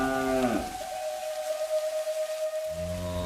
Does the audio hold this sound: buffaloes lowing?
yes